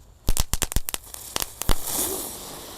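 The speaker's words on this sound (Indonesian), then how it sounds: "Lanjut kita nyalakan di sini ada mercon gangsingan" A rapid string of sharp pops and crackles from a Cobra spinning firecracker, then a steady hissing spray as it spins and burns, close by.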